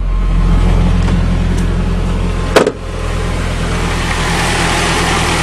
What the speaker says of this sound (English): What a sweet old motor.